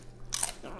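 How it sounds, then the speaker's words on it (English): A toddler bites into crispy honey sesame chicken from Panda Express, giving one sharp close-up crunch followed by a softer chewing crackle, heard clearly over a quiet background without talk. "Make sure you chew that well, okay?"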